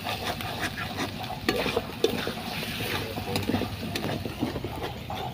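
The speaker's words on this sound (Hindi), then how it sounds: "अभी हम लोग बना रहे हैं लकड़ी चूल्हा में" Chicken cooks on a wood-fired clay stove, with stirring scrapes and a steady sizzle of frying under faint background noise.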